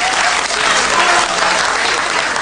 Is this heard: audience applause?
yes